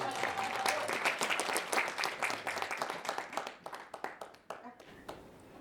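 A theatre audience applauds at a live show, dense sustained clapping that thins out into scattered individual claps toward the end.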